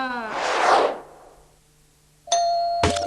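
A doorbell rings at a home in a Hindi film scene: a bright electronic ding tone, then a second chime after a pause, with a burst of speech heard just before.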